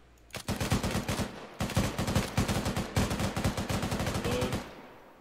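Loud rapid gunfire in a video game, aimed at a zombie runner, rattles out in two long automatic bursts with a short pause between, and no voices.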